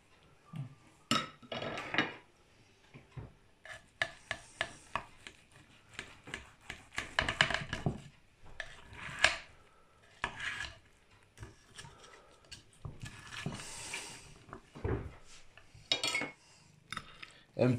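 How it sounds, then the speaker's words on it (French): Cutlery and a serving utensil clink and scrape against a dish while a baked wild leek flan is cut and served, irregular close metallic taps and scrapes scattered over several seconds, with no talking. "Voilà, là Patricia elle va nous le couper et le servir."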